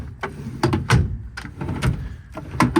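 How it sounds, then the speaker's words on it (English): Metal tool-box drawers on a 2015 Ford F750 work truck slide open and shut several times, each pass a short scraping rattle ending in a clack, close by and irregularly spaced. "These top drawers slide pretty nicely."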